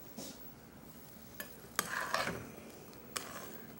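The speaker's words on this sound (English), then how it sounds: "Stir them beans too." Beans being stirred as they cook in a pot: a few soft scraping and clinking strokes of a spoon against the pot, with a brief louder scrape in the middle, over a quiet low simmer. No talking.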